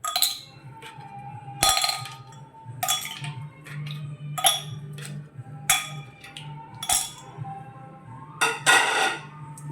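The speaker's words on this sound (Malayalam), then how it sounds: "ഗ്ലാസ്സിലേക്ക് ഐസ് ക്യൂബാണ് ഇട്ട് കൊടുക്കുന്നത്." Ice cubes dropped one after another into four glasses for lemonade, giving about eight sharp, ringing clinks spaced roughly a second apart, close up with no voices.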